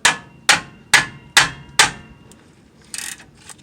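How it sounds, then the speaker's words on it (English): A hammer taps brake caliper parts into place on a Chevy 3500 dually rear brake, five sharp metallic strikes in an even rhythm about half a second apart, followed by a few faint clinks of handling. "make sure you hit it with the hammer"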